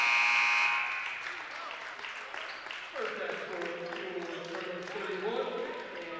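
The end-of-half buzzer at a men's college basketball game sounds as a loud, steady electronic tone for about a second, then fades as crowd noise and an announcer's voice take over.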